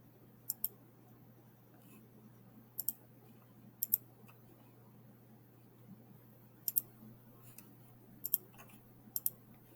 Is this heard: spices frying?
no